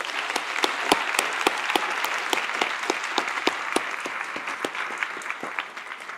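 Audience applause for a color guard at a school district midyear graduation ceremony, steady clapping from a large crowd lasting several seconds and fading slightly at the end.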